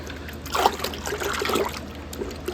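Plain tap water pours and trickles into a container to mix a soapy solution for cleaning a mushroom grow tent. The splashing is steady and close, with a few brighter gurgles.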